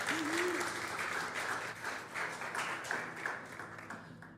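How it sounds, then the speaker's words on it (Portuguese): A church congregation applauds a newly married couple, a dense burst of clapping that thins and tapers off, with a voice heard briefly at the start. "Vamos dar um aplauso para esse casal,"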